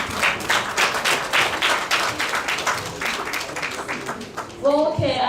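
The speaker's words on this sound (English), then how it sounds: "Please give another applause." Audience applause at a Pan-African Women's Day event in Ghana, a dense run of clapping that keeps going for several seconds, with a voice briefly speaking near the end.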